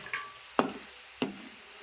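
Masala peanuts fry in a pan, with three sharp stirring clicks spaced evenly over a soft, steady sizzle, heard up close.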